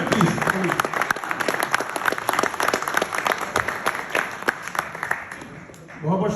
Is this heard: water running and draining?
no